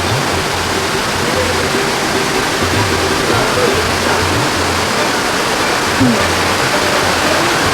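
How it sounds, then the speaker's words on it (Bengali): A waterfall streams down a rocky hillside, a loud, constant close-up rush of falling water that fills the whole clip with no breaks. "দেখো এইখান থেকে জল আসছে, পাহাড়ের গা বেয়ে ঝর্ণা নেমে গেছে একদম।"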